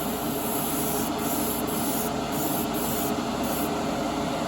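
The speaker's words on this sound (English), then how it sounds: "So I'm gonna go with a wet coat." Steady, close hiss of spray paint laid down as a wet coat on a model kit part, continuous and loud throughout with no pauses.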